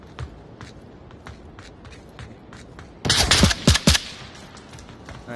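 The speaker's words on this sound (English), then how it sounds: "Alright, they used a loud weapon." Gunfire from a loud weapon in the VR shooter Onward: after soft footsteps and shuffling, a sudden close burst of several sharp shots lands, then quiets again.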